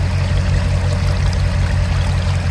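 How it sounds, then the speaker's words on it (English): Fast-moving floodwater rushes over a gravel farm road, a steady close rushing wash with a low rumbling undertone throughout, with no voices. "Look how fast this water's moving."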